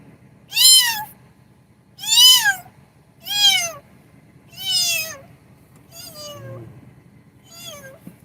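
A person mimics a starving kitten with six drawn-out, wailing meows, spaced about a second apart. The first calls are loud and close, and the last two are softer and thinner.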